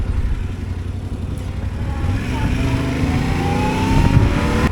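An off-road vehicle loaded with gear and boxes drives slowly, its engine giving a steady low rumble with a faint rising whine, close and continuous under wind buffeting.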